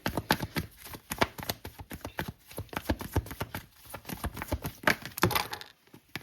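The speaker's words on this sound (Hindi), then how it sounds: "मैं एक बार और शफल करूँगी।" Tarot cards are shuffled by hand in a run of crisp, rapid riffling taps and flicks, close and moderately loud, with no voice.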